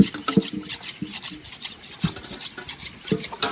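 A blade scrapes back and forth on a sharpening stone in a Konkan village in the forest, a steady rasping rub repeated in quick strokes, close and fairly loud, with no talk.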